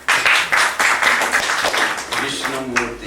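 Audience applause at a spiritual lecture on the Nectar of Instruction, a burst of many hands clapping at once, loud and dense at first and then thinning out toward the end.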